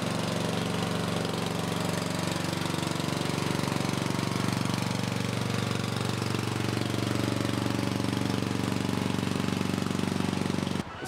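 Ride-on lawn mower engine running loud and steady while the mower is driven down homemade ramps, a constant close droning rumble for about eleven seconds before it cuts off abruptly at the end.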